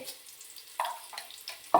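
Mustard seeds dropped into oil in a pan for tempering crackle in a few soft, scattered pops over a faint, steady background, with no talking.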